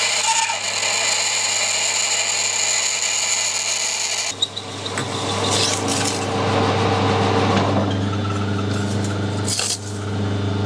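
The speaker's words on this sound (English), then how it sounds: "That's the way a drill should cut." A brand new 16.5mm drill bit cuts steadily through metal in a machine fitted with an ER40 collet chuck, giving a loud continuous whine and grind that shifts in tone partway through, with a few scraping clicks.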